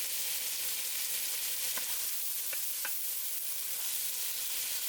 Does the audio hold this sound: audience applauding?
no